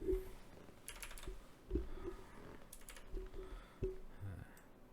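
Computer keyboard keys pressed during 3D modeling work in Unity, giving a handful of sharp, close clicks spaced unevenly over a quiet room hum, with no talking.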